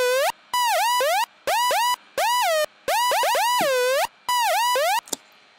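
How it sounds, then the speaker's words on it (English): A Moombahton synth lead programmed in NI Massive, heard dry without effects, plays short bright notes with swooping, bending pitch in a bouncy, computer-like rhythm, each phrase separated by brief gaps. "I'm going to be showing you how I did my Moombahton lead noise"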